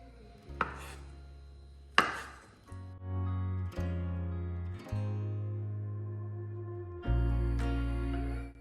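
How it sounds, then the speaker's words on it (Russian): A knife dices boiled eggs on a cutting board in a few separate strokes, close up and sharp, with a low hum between cuts and no talking. "Берем 4 вареных яйца и стараемся нарезать кубиком."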